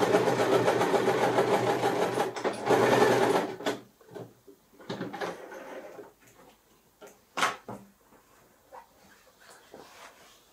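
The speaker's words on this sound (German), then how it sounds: "Und dann steckt ihr euch einmal diese Seite fest und näht die dann zusammen." A sewing machine runs in a steady burst of stitching as two pieces of fabric are sewn together for a dog bed. The burst stops, and quieter handling clicks and rustles follow with brief pauses.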